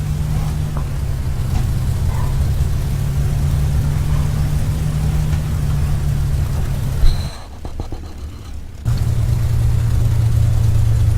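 A Supermarine Spitfire Mk I/II piston engine in the FSX flight simulator runs steadily and loud, then cuts out abruptly for about a second and a half with a sputter before roaring back on.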